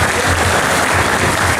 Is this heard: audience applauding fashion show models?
yes